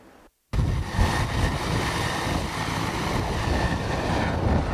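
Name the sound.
Carabinieri helicopter taking off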